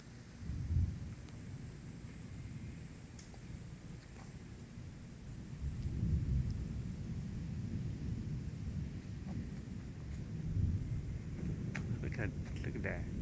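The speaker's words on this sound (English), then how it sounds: "Thundering out here." Distant thunder rumbles low and continuous as storms build over Sandston, Virginia, swelling in soft waves beneath wind noise outdoors.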